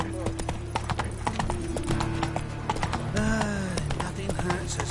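Horse hooves clip-clop in a steady galloping rhythm in The Witcher 3, close and clear, with a brief whinny and other game sounds mixed in and a voice speaking over part of it.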